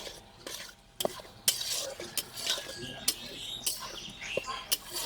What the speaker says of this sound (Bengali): এইভাবে ভেজে নিতে হবে আর এরকম কন্টিনিউ নাড়তে হবে যাতে পুড়ে না যায় বেসনটা